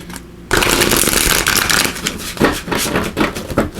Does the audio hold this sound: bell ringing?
no